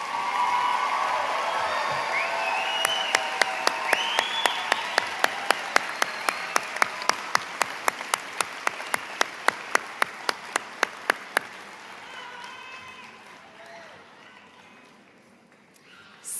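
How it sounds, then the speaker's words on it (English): Audience applauding graduates at a high school graduation ceremony, with broad clapping and a crowd murmur. A prominent rhythmic unison clap beats steadily for about eight seconds before the applause tapers off. "Another round of applause for all of our graduates."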